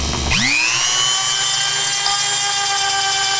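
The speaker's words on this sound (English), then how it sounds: "let me grab the Dremel and do some trimming" A Dremel rotary tool spins up sharply and then holds a steady high-pitched whine while trimming a part on an RC RZR, loud and close with no talking.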